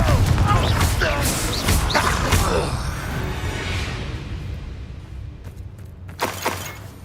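Confringo fire-blast spells explode in Hogwarts Legacy: a cluster of loud crashing blasts with shattering debris fills the first couple of seconds, then a fading rumble follows before another sharp burst hits near the end.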